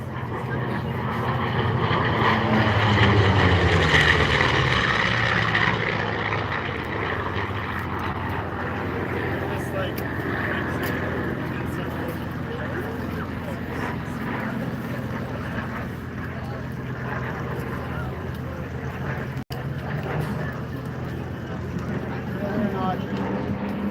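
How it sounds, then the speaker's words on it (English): A vintage combat aircraft makes a high-speed pass at the Chilliwack airshow, its engine roar swelling loud then easing into a long sustained drone, with someone commentating over the crowd throughout. "All right, here he comes from the left, a high-speed pass."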